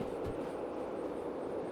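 Steady broadband rumble of a train rolling along the track in the Derail Valley video game, a continuous mid-level drone with no distinct clanks and no speech.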